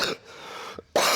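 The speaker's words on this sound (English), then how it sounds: "I also have like this cough, so it's not helping" A man coughs close to the microphone during a gym workout, a few rough bursts separated by brief quiet, with no talking over them.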